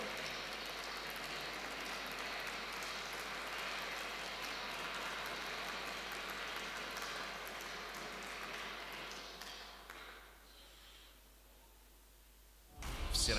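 Sustained applause fills a hockey arena at a VHL match between Zvezda and TsSK VVS, a dense steady wash that thins and fades near the end before a brief louder burst.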